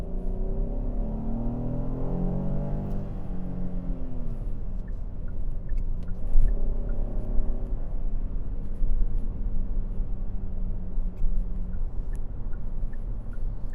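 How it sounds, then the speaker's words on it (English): Inside a 2025 Kia Carnival SX-Prestige V6 on the highway, a steady low rumble of road and tire noise is heard, with engine tones rising and falling as the van accelerates. "The road noise is a lot louder on the highway than it is on the back roads."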